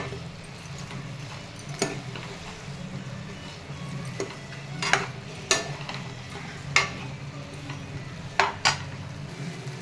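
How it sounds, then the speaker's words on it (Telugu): A Manchurian mixture is stirred in a frying pan under a steady low sizzle, with a spoon scraping and tapping against the pan in irregular clicks that become more frequent toward the end. "ఇలా వేసేసుకొని కొద్దిగా అంతా ఇలా కలిపేసుకుందాం."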